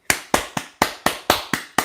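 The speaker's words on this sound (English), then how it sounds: "Clapping for myself because I can't wait." A person claps their hands eight times in a quick, slightly uneven rhythm, each clap sharp and close with no talking.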